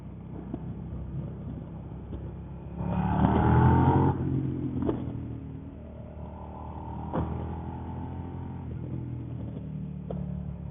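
Suzuki SV650 motorcycle ridden through traffic among cars and other bikes, a steady engine drone with wind rush, swelling as the rider accelerates, then settling back.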